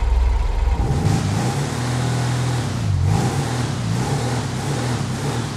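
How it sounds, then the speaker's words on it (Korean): Taco van engine in GTA 5, a rear-wheel-drive food truck revving at mid pitch, rising and falling through a couple of throttle surges, loud and alone without talk. "아, 엔진 소리가 별로 시원찮은데."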